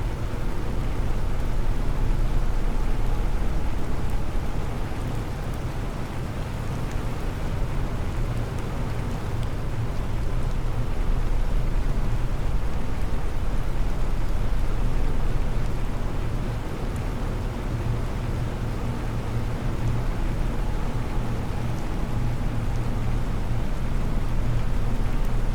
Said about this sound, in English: Turns out the rain is pretty chill.